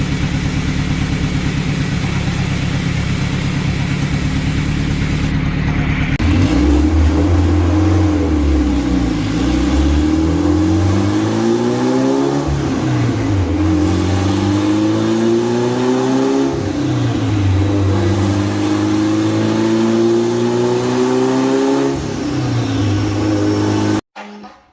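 A turbocharged car engine revs hard on a dyno during a tuning pull. It climbs through several sweeping rises and drops in pitch as it accelerates, loud and close, then cuts off at the end.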